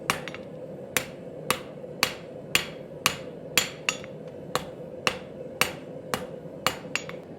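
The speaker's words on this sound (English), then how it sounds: "We can implement those half-face blows again, working back and forth to quickly draw down the material." Hammer blows forging and tapering the tang of a chef's knife, about a dozen sharp metallic strikes at a steady, fairly quick rhythm with ringing tails over a low background hum, close and clear with no talk.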